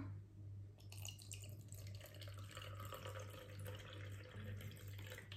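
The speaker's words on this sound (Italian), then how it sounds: "quindi carichiamolo con l'acqua fino alla riga" Filtered water poured from a carafe into an aroma diffuser: a steady, close splashing trickle that runs without pause for the whole stretch, with no voices over it.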